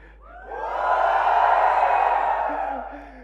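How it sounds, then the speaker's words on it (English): A big room full of fans at a phone launch event lets out a loud, sustained cheer with whoops and shouts that rises, holds and tapers off, with a voice speaking briefly near the end. "No, give me a flagship cheer."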